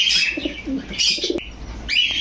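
Pigeons at a pigeon sale give soft repeated coos mixed with brief chirpy calls, close and clear with no talking.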